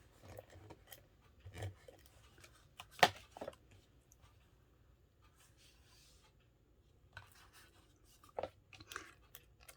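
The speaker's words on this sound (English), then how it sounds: "I'll cut another piece" Scissors snipping through a piece of card during a concertina card craft, a handful of separate quiet cuts spread out over a mostly hushed tabletop.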